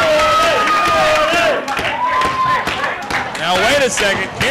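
Crowd clapping and cheering at a wrestling match, a noisy arena din of applause and shouts running throughout with commentators talking over it.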